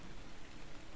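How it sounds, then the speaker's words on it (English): Steady rain falls at night in the ARK survival game, a dense, even hiss of drops with no voices, moderately quiet throughout. "It's the middle of the night and it's raining."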